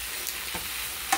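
Maple syrup bacon sizzling in a frying pan, a steady soft crackle with a couple of brief scrapes as the strips are turned, close and moderately quiet, no talking.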